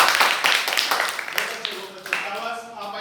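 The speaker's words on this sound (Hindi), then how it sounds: "शाबाश, ताली बजाओ।" Schoolchildren clapping their hands in a classroom during an English reading lesson, a quick burst of sharp claps that fades out while a teacher's voice carries over it.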